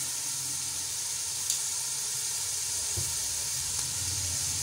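Peas and spices sizzling in a pan for vegetable pulao, a steady close hiss of frying that holds even throughout, with one or two faint clinks.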